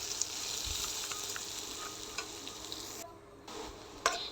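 Bitter gourd and potato fry being stirred in a pan, with a steady sizzle, scraping utensil strokes and a few sharp clinks, briefly dropping quieter near the end before resuming.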